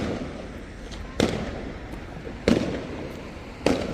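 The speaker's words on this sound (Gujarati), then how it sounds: "ફટાકડા ફૂટે છે" Three sharp firecracker bangs burst at roughly one-second intervals over a steady street hum during Diwali celebrations on a decorated London street, each crack loud and abrupt before fading.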